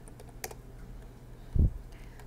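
Sparse keystrokes on a computer keyboard while title text is typed in Premiere Pro CC 2018, a few faint, close clicks with one duller thump partway through, no talking.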